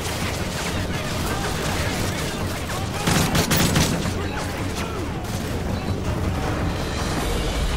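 Sustained gunfire crackles through a Call of Duty: Modern Warfare 3 battle, with dense overlapping shots and booming impacts that get louder partway through. A voice speaks over the noise.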